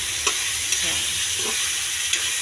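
Chicken pieces frying in a pan with curry powder, a dense steady sizzle with a few soft stirring scrapes and taps at intervals, close and alone.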